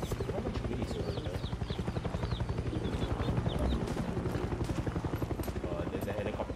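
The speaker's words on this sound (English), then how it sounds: "There's a helicopter." A helicopter in the Far Cry 6 video game thumps steadily with a rapid rotor chop, loud and continuous, while players talk over it.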